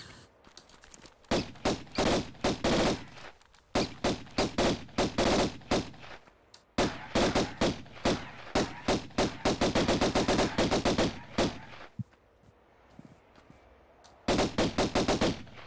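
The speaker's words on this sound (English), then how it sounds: "I don't know if rapid firing like that," Rapid gunfire in Tomb Raider rings out in loud, repeated bursts of fast shots, separated by short pauses, close and sustained throughout.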